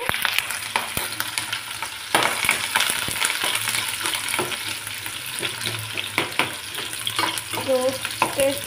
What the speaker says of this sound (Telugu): ఆయిల్ వేడాక ఆనియన్స్ అయితే వేసేయాలి